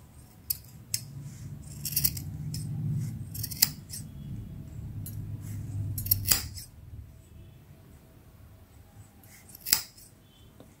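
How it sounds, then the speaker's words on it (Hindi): Scissors cut through wool while a woolen flower is being made, sharp metallic snips close up, scattered irregularly, some in quick pairs, over a faint low rustle of handled yarn. "इस तरह से इसको हम यहां से कटिंग करेंगे इसकी।"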